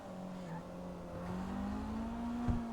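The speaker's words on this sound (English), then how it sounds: "The sound too is actually good with those two loud exhausts." Maibatsu Penumbra, a video game car with two loud exhausts, accelerating with a steady rising engine drone and a brief thump near the end; no talking over it.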